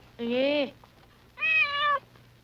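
A cat gives two clear, drawn-out meows in close succession, each one rising and falling in pitch, with a soft low hum running underneath and no talk.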